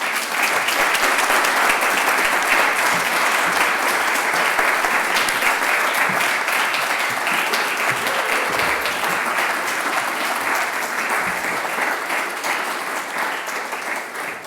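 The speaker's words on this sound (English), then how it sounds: "put your hands together and applaud this exceptional group of graduates from the Diplomatic Academy 2020." A large audience at a diploma graduation ceremony claps loudly and steadily for the graduating class, a dense, continuous wash of hands that holds strong throughout and only eases slightly near the end.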